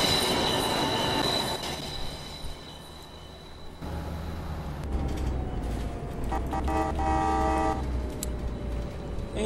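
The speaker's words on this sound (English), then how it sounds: "There's a K train." A train passes in the OMSI 2 bus simulator game on a city route, its wheels squealing loudly against the rails with a brief horn toot as the cars roll by close.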